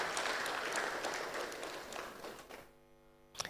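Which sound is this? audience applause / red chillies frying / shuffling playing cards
audience applause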